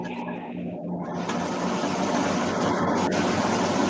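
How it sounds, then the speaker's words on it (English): An air conditioner starts up indoors with a steady mechanical hum and whir that swells slightly and then holds, close and fairly loud, with no talk over it. "That's the startup of the air conditioner"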